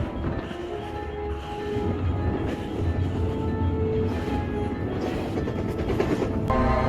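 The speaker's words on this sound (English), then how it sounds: "disregarding the massive train approaching" A massive train approaches on railway tracks. A loud, steady rumble rises slightly over several seconds, with a metallic hum and rattling above it. No voices.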